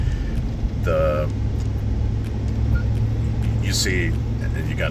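A 2018 Chevrolet Silverado pickup driving on the road, a constant low cabin rumble of engine and tires, close and steady, with a few brief higher chirps and tones over it.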